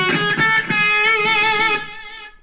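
A sustained, heavily overdriven electric guitar phrase with a long reverb and delay tail ringing out and fading after the notes stop.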